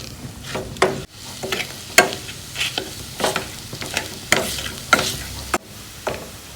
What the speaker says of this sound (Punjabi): ਹੁਣ ਆਪਾਂ ਇਹ ਨੂਨ ਮਿਰਚ ਇਹਦੇ ਵਿੱਚ ਮਿਕਸ ਕਰ ਲਾਂਗੇ ਜੀ ਚੰਗੀ ਤਰ੍ਹਾਂ